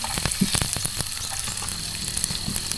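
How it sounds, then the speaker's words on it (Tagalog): Garlic and onion sautéing in hot oil at a mountain campsite cookout in Tanay, Rizal, with a steady close sizzle and crackle broken by sharp pops and spatters throughout. "Tapos, gigisa natin to bawang,"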